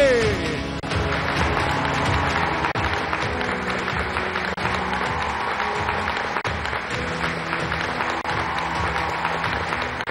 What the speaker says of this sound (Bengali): একবার জোরে হাততালি হবে for the one and only Subhashree Ganguly